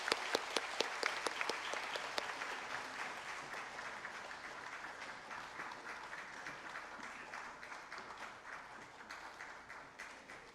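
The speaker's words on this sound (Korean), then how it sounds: "사교구 들어가실 때 응원의 박수 부탁드립니다" Congregation at a Friday night church prayer service clapping in applause, a few sharp distinct claps at the start that grow into steady, fairly faint, even clapping from the room.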